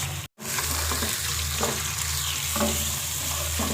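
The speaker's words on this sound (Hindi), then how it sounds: "चिकन को शामिल करके अच्छी तरह से चिकन को भून लेंगे" Chicken pieces for Bombay biryani sizzle and fry in a pan, with a steady loud hiss broken by repeated scraping stir strokes and a brief dropout near the start; no voices.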